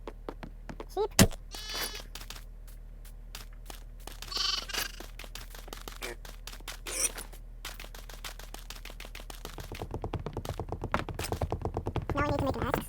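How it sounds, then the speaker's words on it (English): Sheep in Minecraft bleat in scattered short calls, some near and loud, some fainter, amid quiet clicks and game sounds, with a denser run of clicking toward the end. "Sheep."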